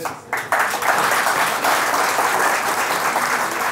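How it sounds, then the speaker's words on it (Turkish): An audience at an illusion show claps loudly and steadily, the applause swelling in after a brief quieter opening and holding a dense, even wash of hand claps throughout. "Evet, evet alkışlıyoruz."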